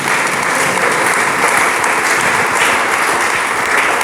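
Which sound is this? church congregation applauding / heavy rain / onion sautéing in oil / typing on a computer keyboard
church congregation applauding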